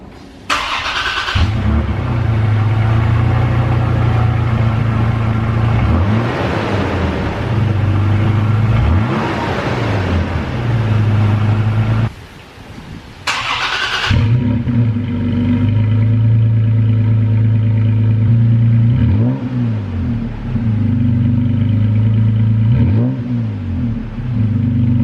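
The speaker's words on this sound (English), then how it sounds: "It's not V8 grumble, it's not V8 roar, but it's now V6 roar" A Toyota Tacoma V6 truck engine fitted with an aftermarket MBRP exhaust is recorded right at the tailpipe, starting up and idling loudly, with several revs swelling and dropping, a brief cut midway, then a steady rumbling idle.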